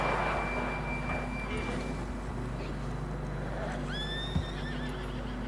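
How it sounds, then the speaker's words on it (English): A horse neighs in Red Dead Redemption 2 as its whinny rises over steady wind and ambient game sound, along with some faint hoof movement. "John was riding that horse when we left Blackwater."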